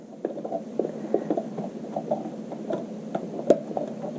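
A sewing machine's small bobbin cover door clicks back into place, with a sharp, distinct snap near the end among soft, close mechanical ticks and rattles.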